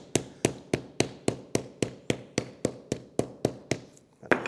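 Light, evenly spaced hammer taps on the edges of a leather gator belt over marble, about three per second, close and fairly quiet, with no talking.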